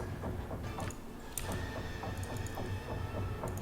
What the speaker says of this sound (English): That is the sound of a giant windmill.